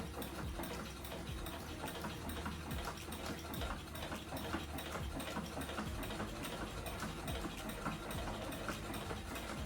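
A beginner's first sewing machine running a stitch, a steady fast mechanical whir with rapid ticking needle strokes, continuous and fairly quiet, with no talking.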